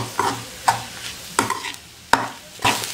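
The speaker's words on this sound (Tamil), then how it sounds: "அடிப்பிடிக்காமல் கலக்கிட்டே இருங்க." Egg podimas fries in a pan under a steady sizzle, with five sharp scraping strokes of a spatula spaced irregularly across the pan.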